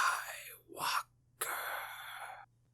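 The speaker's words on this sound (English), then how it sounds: "he gets to hear Vader breathing, too" Darth Vader's mechanical respirator breathing from Star Wars: The Clone Wars, two slow, hissing breaths, an inhale then a longer exhale, close and alone over a faint low hum.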